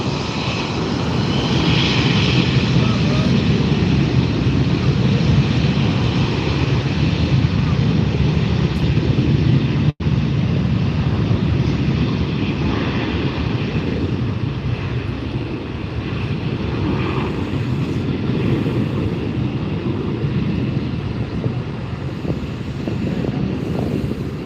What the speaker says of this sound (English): So this is a Boeing 737, of course, because of Southwest.